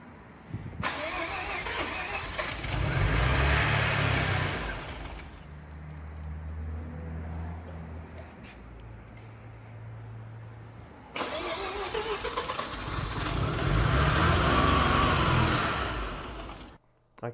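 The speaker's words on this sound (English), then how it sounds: "And here we've got the first official start." A rebuilt Mazda 13BT rotary engine in an FC build cranks and fires for its first start, roaring up loudly twice with a quieter, rougher idle between the two bursts.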